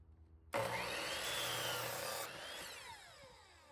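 Miter saw spins up and cuts through a wooden shed rafter at a 22.5 degree angle, a loud close whining bite that lasts under two seconds before the blade winds down.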